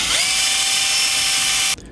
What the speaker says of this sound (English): And now we're just going to drill out the center.